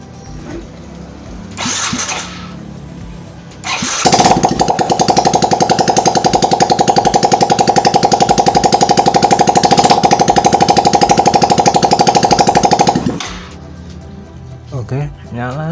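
A Yamaha Mio J scooter with a slow, uneven throttle response fires up after a short starter burst and settles into a loud, close, rapidly pulsing idle for about nine seconds before cutting off, with brief noises before and after.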